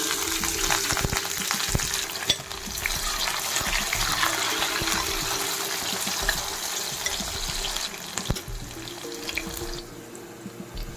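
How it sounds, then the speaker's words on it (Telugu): Onion and green chillies fry in a pot of oil for a flat bean and gongura curry, a steady soft sizzle and hiss with occasional clinks, continuous and moderately faint. "చూడండి, ఉల్లిపాయ పచ్చిమిరకాయ ఇలా వేగినాయి కదా."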